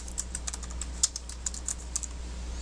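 Typing on a computer keyboard while entering a comment into Laerdal SimMan 3G programming software: a steady run of light, close key clicks with an occasional harder tap, over a low electrical hum and no talk.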